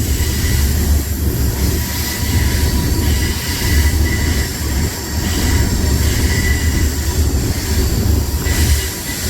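Freight train rolling along a railway near Cairo, Illinois, by the Ohio River: a loud, close, continuous rumble of cars over the rails, with high wheel squeal ringing through, and no talking.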